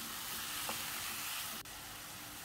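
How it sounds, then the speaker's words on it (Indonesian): Tomato and chili filling for beef empanadas frying and being stirred in a pan, a steady close sizzle with a soft scrape of the spoon. "Aduk-aduk lagi, kita masak sampai mateng."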